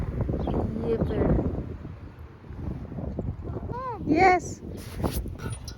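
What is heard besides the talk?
wind blowing through trees in park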